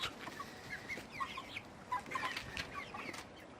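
Chickens clucking in a crowded garden coop, several birds calling in short overlapping clucks over a low outdoor hum, fairly faint and slightly distant, with a brief flutter of wings.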